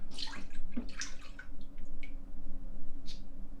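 A cup of coconut milk pours into a mixing bowl for berry scones, giving soft, close splashing and dripping sounds in a few short bursts over a low background hum.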